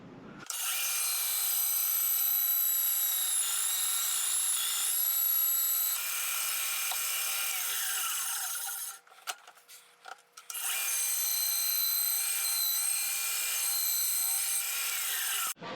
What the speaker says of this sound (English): we're going to cut it off on the bandsaw, make a little piece